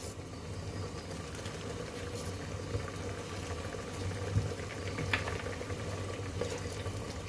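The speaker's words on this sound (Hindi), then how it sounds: "और मसाले को मैं भून लूंगी।" Masala spices and cumin seeds frying in oil in a home kitchen while cooking chana, a steady low sizzle and bubbling that holds at an even level throughout with no talk.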